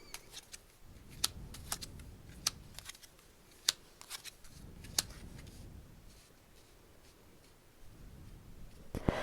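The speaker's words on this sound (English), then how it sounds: "This is the reason why I shuffle my cards this way." Kipper cards being shuffled close by, bursts of soft riffling and sharp flicks repeating in a loose rhythm over a quiet room, no talking.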